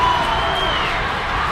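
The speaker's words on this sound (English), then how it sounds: "the crowd goes nuts" A college club hockey crowd at a Colorado State versus Colorado game roars loudly in one dense sustained wash of cheering, with a whistle-like tone cutting through briefly.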